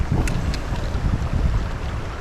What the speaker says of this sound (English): The wind's blowing so hard though.